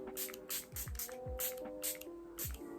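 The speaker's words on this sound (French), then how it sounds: "je commence toujours comme d'habitude par mettre mon spray fixateur" Makeup setting spray misted onto a face in about six quick, close pumps, each a short airy hiss with a faint click of the nozzle, spaced evenly.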